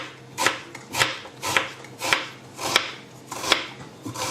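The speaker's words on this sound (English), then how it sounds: "you get some onion and just thinly slice the onion" A knife thinly slices an onion on a cutting board, giving about eight steady, evenly spaced slicing strokes, close and clear with no talk.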